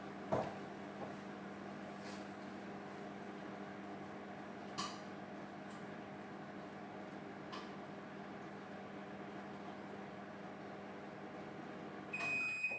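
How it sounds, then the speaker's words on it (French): A microwave oven hums steadily as it melts butter for a mug cake, a constant even drone with a few faint clicks and clatters, then a short rise in noise near the end, with no talking. "après vous pouvez rajouter 5 ou 10 secondes en fonction de votre micro-ondes"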